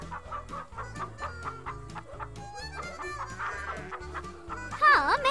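A rooster clucks repeatedly in a Hindi-dubbed Hollywood action movie scene, steady close-up clucks over a faint musical hum, ending in a louder squawk.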